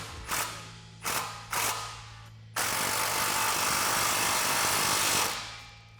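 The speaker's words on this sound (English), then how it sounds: "And then we can grab that clamp and slide it into position and tighten that down with that same 15mm socket." A hand ratchet with a 15mm socket tightens an exhaust clamp on a 2016-2023 Camaro SS cat-back system: three short clicking bursts, then a longer continuous run of rapid ratchet clicks, close and clear.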